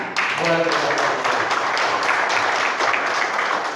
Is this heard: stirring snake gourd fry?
no